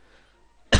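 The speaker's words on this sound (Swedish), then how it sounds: "jag ska inte hosta i micken" A single sharp cough right into a microphone, loud and close, bursting in after near silence at the very end.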